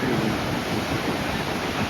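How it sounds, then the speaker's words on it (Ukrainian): Atlantic Ocean waves at Cabo da Roca, a steady broad wash of surf mixed with wind buffeting the microphone, continuous and fairly loud with no talking. "Хвилі просто."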